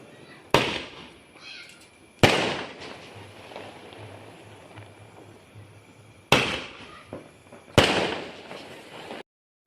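Fireworks and firecrackers go off outdoors in four sharp loud bangs spaced a few seconds apart, each trailing into crackle and echo, with faint background noise between.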